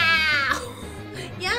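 A cat gives two drawn-out meows, one at the start and another near the end, close to the mic with no one talking over them.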